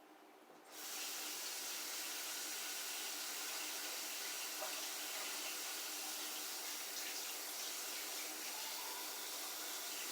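Water poured from a 10-ounce soup can into a pot of broccoli cheddar soup, a steady rushing splash that starts after a short quiet moment and runs on evenly, with no talking.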